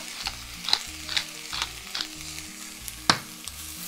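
Button mushrooms with onion, salt and pepper are stir-fried in a stainless steel pan, giving a soft sizzle under a string of sharp spatula taps and scrapes against the pan, with no talk.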